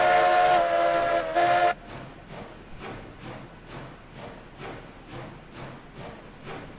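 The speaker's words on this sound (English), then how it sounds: "Got a nice little whistle here." A steam locomotive whistle in the game Railroads Online sounds in two short bursts, a brief blast and a longer one, followed by the rhythmic chuffing and rumble of the moving train.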